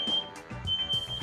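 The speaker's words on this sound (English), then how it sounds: "Smoke alarm going off." A smoke alarm sounds with a thin, high-pitched electronic tone during a smoke test, heard behind overlapping muffled voices and room noise.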